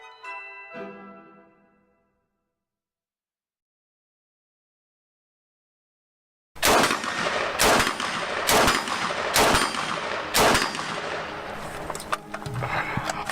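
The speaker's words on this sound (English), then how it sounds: "It's the standard issue Chinese Army assault rifle, the Type 95." A Type 95 Chinese Army assault rifle fires sharp, loud shots in an uneven burst after a few seconds of silence, each crack followed by lingering echo.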